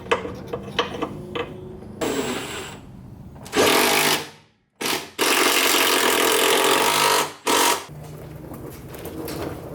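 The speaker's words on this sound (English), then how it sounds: "Shave the head of the bolt down a little bit" A power tool grinds the head of a bolt down in several loud, close bursts of a few seconds each, with short pauses and lighter scraping between them.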